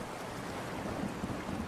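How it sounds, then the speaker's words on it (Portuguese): Wind-driven waves almost a metre high on the Paraná River in Argentina, heard as a soft, continuous washing surge mixed with wind noise, with no voices. "O vento sopra rio acima e isso acaba gerando essas ondas de quase 1 metro de altura."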